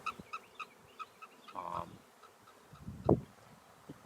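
A honeybee swarm hums around empty hive equipment, faint buzzing passes with a few louder close fly-bys and soft thumps outdoors.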